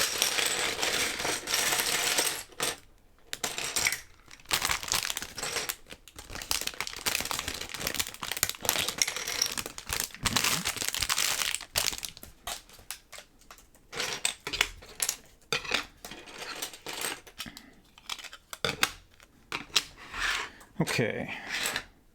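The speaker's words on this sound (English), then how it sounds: "We're getting a little bit too loud with the crinkles here." A plastic bag of LEGO pieces crinkles and rustles up close in loud, irregular bursts, with small plastic parts clattering and brief quiet gaps between handlings.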